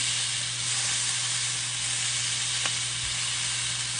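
Lamb legs sear on a grill pan, giving a loud, steady sizzle and hiss that runs unbroken and close throughout, with one brief click partway through.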